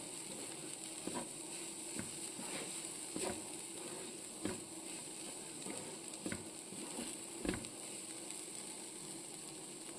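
Jackfruit thoran, grated coconut with jackfruit, sizzles steadily in a pan while a spoon stirs it, scraping and clacking in periodic strokes over a constant soft hiss.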